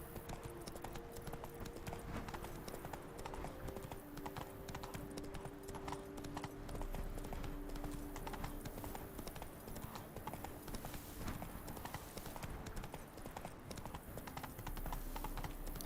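Geralt's horse Roach trotting in The Witcher 3: Wild Hunt – Blood and Wine, hooves clip-clopping in a steady rhythm throughout, fairly faint against game ambience and light clicking, with occasional speech.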